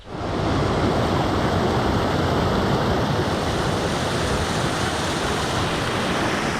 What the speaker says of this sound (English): there's a horseshoe-shaped rapids and waterfalls here